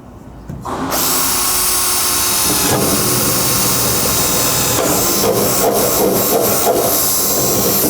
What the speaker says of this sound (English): we're gonna pre-drill for some pop rivets